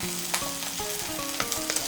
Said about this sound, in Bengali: আদা, টমেটো, কাঁচা লঙ্কা, রসুন বাটাটাকে তেলের সঙ্গে মিশিয়ে নিয়ে একটু ভেজে নিয়েছি